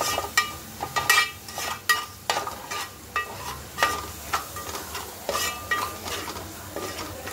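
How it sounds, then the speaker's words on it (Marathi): Garam masala sautéed in a pan for a drumstick dish, with a steady run of close metallic stirring scrapes and clinks over a gentle sizzle. "गरम मसाला 1 चमचा टाकायचा, त्याला चांगलं परतून घ्यायचं"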